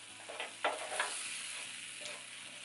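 Onions soften in a pan with a steady close sizzle, punctuated by a couple of quick stirring scrapes early on before settling into an even hiss.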